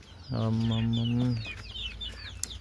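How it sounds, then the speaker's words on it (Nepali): Chickens at a rural home in Nepal give a drawn-out cluck and some shorter calls, fairly close, over a faint outdoor background with small birds chirping. "कुखुरालाई पनि उत्तिकै व्यवस्थित गरेर राख्नु भएको छ"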